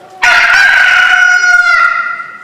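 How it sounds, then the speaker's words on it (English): A rooster crows once, loud and close, a single long cock-a-doodle-doo that rises sharply and trails off, alone without any talk. "And immediately a cock crowed."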